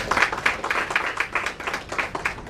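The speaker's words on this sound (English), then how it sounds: "We should clap for his journey." Audience applause at a one-day banking audit seminar, dense and steady hand clapping from a crowd in a hall, continuing at even loudness throughout.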